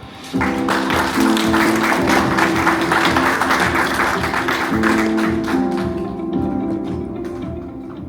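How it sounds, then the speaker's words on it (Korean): Audience applause welcoming a presenter at a Hyundai tech talk on the Casper Electric EV, a dense, steady clapping that starts abruptly and runs close and loud for about eight seconds before thinning slightly at the end. "박수로 받아주세요."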